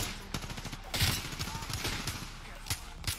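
Gunfire from a gun in the video game Apex Legends, a burst of rapid shots and scattered single reports, fairly close, mixed with game noise and a muffled voice.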